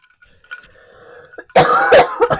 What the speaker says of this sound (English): I'm sorry, viewers, this cough